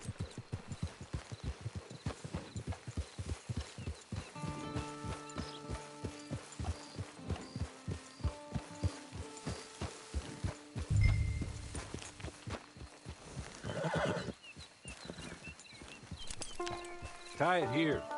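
Horse hooves clip-clopping in Red Dead Online, a steady walking rhythm near the listener that fades under game dialogue, music and other sound effects.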